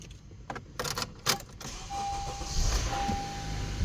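A 2016 Honda Accord engine cranks and catches after a few sharp clicks and clunks, then settles into a steady idle with a faint tonal whine.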